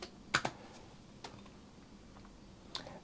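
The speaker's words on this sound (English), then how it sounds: "in the search box we need to type in Philips Hue" A few sparse keystrokes on a computer keyboard enter a brand name into a search box, with short clusters of quick clicks separated by quiet gaps.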